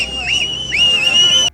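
Girls, likely schoolgirls, whistling a shrill sustained tone that rises and wavers in two sweeps, fairly loud and close, ending abruptly; no talking.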